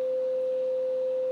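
A steady pure test tone is played through a speaker fed by a MAR 6 preamp, one constant clear pitch over faint background hiss, with no talking.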